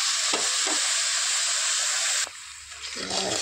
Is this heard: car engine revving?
no